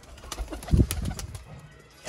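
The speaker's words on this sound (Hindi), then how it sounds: "ये सारे कबूतर आपके सामने हैं" Breeder pair pigeons cooing and shuffling about in their loft, with a few low coos, a brief flutter of wings and soft movement sounds close by, without speech.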